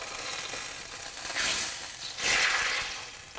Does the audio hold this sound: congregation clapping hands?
no